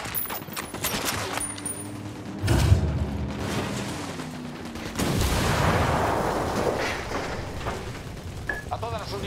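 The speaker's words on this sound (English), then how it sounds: "Opening fire!" Gunfire in the tactical shooter Ghost Recon Wildlands: dense, booming bursts of shots and blasts spread across the scene, with a rumbling low-end barrage and a voice speaking over the battle.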